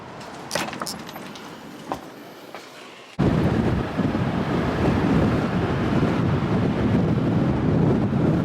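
Strong wind gusts from Storm Eunice buffet the microphone outdoors in a loud, steady roar after a few quieter seconds of light rustling.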